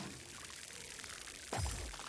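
Plants being watered in the video game Grow: Song of the Evertree: a sudden watery pour and splash cuts in partway through, rising over a steady hiss of background ambience.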